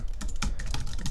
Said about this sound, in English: let me type in Updraft Plus